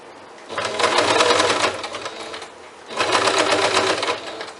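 A sewing machine stitches fabric for a bag in two close, loud bursts of rapid, even clatter, each lasting over a second and separated by a short pause.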